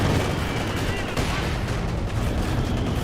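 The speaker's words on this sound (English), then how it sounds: "Oh god, mortar hit." A mortar shell strikes in the real-time strategy game Company of Heroes 2, part of a loud, continuous wall of battle noise with booming blasts and crackling fire, as a voice commentates over it.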